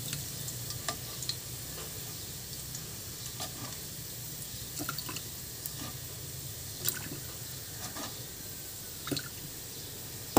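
Oil sizzles steadily in a pan during sautéing, a soft continuous crackle with occasional brief pops and spatters, close and unaccompanied.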